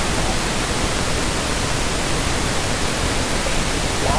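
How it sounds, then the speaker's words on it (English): A steady hiss of randomly generated pink noise at 0 VU, a stereo test signal, fills the whole clip, even and unchanging in loudness, with nothing else present. "test your stereo balance and imaging using randomly generated pink noise"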